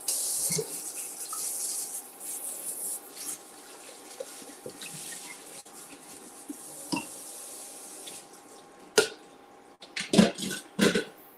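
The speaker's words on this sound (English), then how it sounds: "I'm gonna rinse this off" A kitchen tap runs steadily, rinsing food while a meal of spaghetti peperonata with zoodles is cooked. The soft, close hiss of water gives way near the end to a few louder clatters and splashes.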